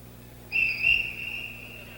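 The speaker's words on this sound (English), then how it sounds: "And that whistle is called the 10-second buzzer" A ten-second buzzer whistle at a boxing match, a single shrill, steady tone that starts abruptly, swells, then fades slowly over about a second and a half against a faint background hum.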